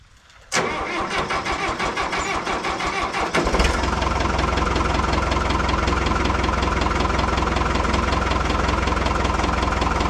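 A Minneapolis Moline Jet Star 3 tractor engine cranks and catches, then settles into a steady, loud, close idle with an even rumble that carries on through the rest of the clip.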